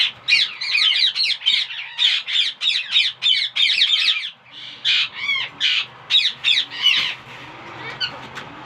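Indian ringneck parrots in a breeding setup give loud, harsh, repeated squawks close by, in rapid bursts with short gaps, continuing steadily throughout.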